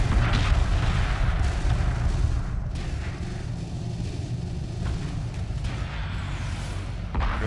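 Fighters firing weapons in Homeworld Remastered, a space strategy game, heard as a dense, continuous low rumble of booming fire that stays steady and loud for the whole stretch, with no voices.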